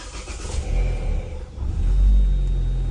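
A large car's engine starts up with a brief crank, then settles into a loud, close rumble that swells and keeps running.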